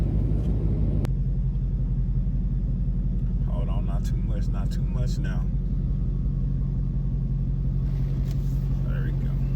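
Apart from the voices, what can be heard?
automatic car wash running over car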